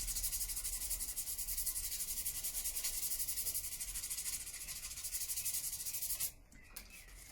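Fine abrasive paper rubs in steady, rapid strokes across an Epiphone Les Paul Modern guitar body, a close, continuous rasp that stops abruptly near the end.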